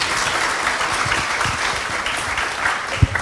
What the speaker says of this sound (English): So please give a round of applause to Prof. Aldana.